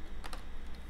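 Two quick, faint clicks of keys pressed on a calculator keypad, close up, with no talking.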